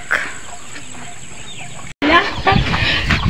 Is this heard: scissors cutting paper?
no